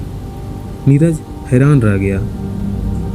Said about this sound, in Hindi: तूफान अपनी पूरी ताकत से दरवाज़ों और खिड़कियों को हिला रहा है